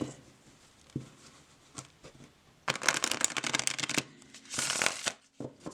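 A deck of collage-style playing cards printed on smooth cardstock with black edges being shuffled: quiet taps at first, then two close, crisp bursts of riffling flutter.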